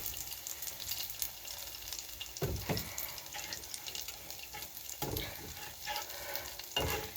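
Spoon stirring milk gravy in a pan, scraping and swishing steadily with a faint sizzle underneath and a couple of louder clanks against the pan, close and moderately quiet, with no talking.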